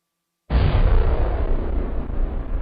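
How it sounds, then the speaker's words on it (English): A Civil War mine explosion erupts suddenly after silence into a loud, deep rumbling blast that sustains and slowly fades over a couple of seconds. "the mine was exploded early the next morning"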